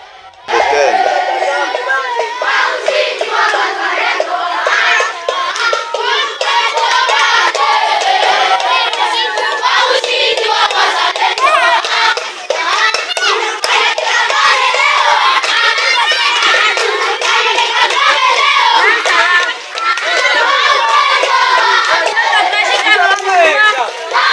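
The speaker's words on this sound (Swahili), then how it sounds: "wananchi walionekana wakiunga mkono kutoka kwa M23 wakiimba nyimbo za shangwe na wakisema tumkanyage Kagame leo." A large crowd of civilians supporting the M23 rebels sings celebratory songs, with dense, continuous, loud voices, shouting and chatter filling the whole stretch without pause.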